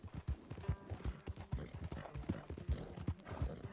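Horse hooves clip-clop at a steady walking rhythm in the Red Dead Redemption 2 video game, close and fairly loud with a soft mechanical creak behind them.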